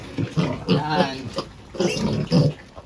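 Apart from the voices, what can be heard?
piglets squealing and grunting at feeding time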